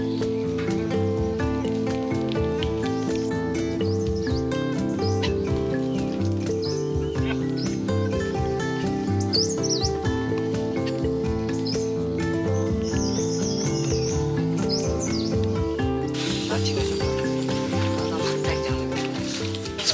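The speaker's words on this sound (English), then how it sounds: "This bird has been following me all the way from the base." Small birds chirp and tweet along a mountain hiking trail in Bhutan, their calls faint and scattered over a loud, steady bed of layered music.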